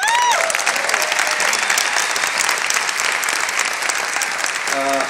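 Audience clapping after a film screening, sustained and even throughout, a broad crowd of hands at close range, with a brief voice at the start and another as it ends.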